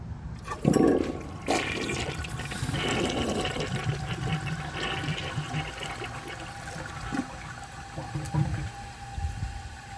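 A 1981 Briggs Conserver concealed jet toilet flushes up close, with a gurgling rush of water that settles into steady running and trickling as the bowl drains and the tank refills.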